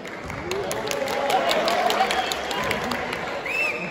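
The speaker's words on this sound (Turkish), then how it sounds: "Bu kez alkışta başlıyor." Applause and crowd noise from spectators at a men's basketball game between Bilkent and Hacettepe, a steady broadband wash of clapping that holds for the whole stretch, with a brief whistle-like tone near the end.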